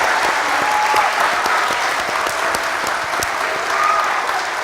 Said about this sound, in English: Let's give her a really big round of applause.